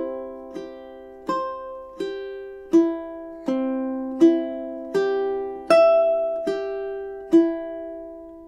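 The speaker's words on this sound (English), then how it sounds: "let's have a go at playing measure 17 and 18 through together now" A ukulele picks measures 17 and 18 of "Ave Maria" as about ten evenly spaced plucked notes and chords, each ringing into the next; soft, close and unaccompanied.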